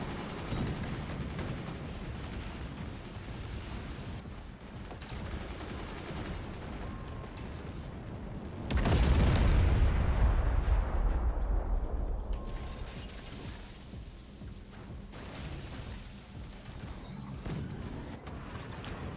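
Cannon and gun fire from a Forts RTS battle: a steady dense crackle of shots, rising to a heavy booming impact around the middle that slowly decays back into continued firing.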